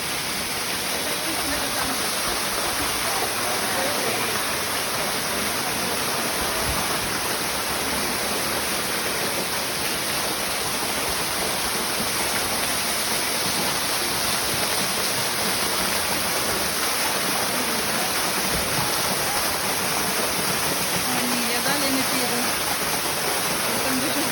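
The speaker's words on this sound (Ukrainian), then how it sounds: "Таке враження, що вода з неба падає." Steady, dense rush of falling water fills the whole stretch, broadband and constant, from a waterfall in the Alcantara gorge in Sicily, with faint voices underneath.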